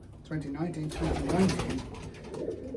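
A pigeon coos close by, a soft rolling low call lasting a couple of seconds, while someone talks.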